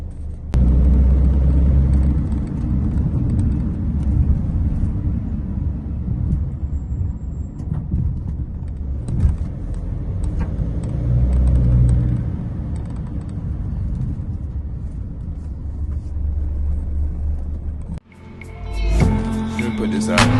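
A car drives steadily with a continuous low road rumble and engine drone throughout, loud and close from inside the cabin, cutting off abruptly near the end as music and voices take over.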